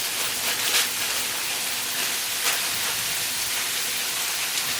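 Riced cauliflower sautes with onions and peppers in a pan, giving a steady soft hiss and faint crackle throughout with a few slightly louder bursts, no voices.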